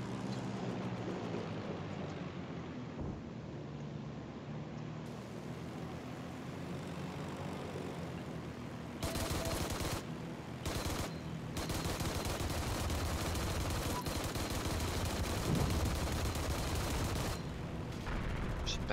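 Anti-aircraft gunfire from the enemy spawn in a video game, steady rattling bursts under the drone of an aircraft engine, continuous and fairly loud across the clip.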